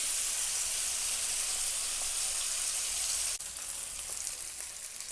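Fish frying in hot oil gives a loud, steady hiss and crackle at close range, dropping slightly in level partway through and continuing with no voices.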